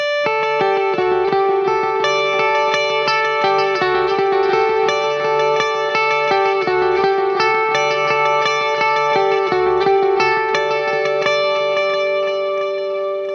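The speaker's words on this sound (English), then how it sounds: "I'll play it with the dotted eighth and the quarter." Electric guitar notes run through dotted-eighth and quarter-note delays at once, each picked note trailed by rhythmic echoes that interlock into a shimmering, reverberant pattern, played continuously and clearly with no voice.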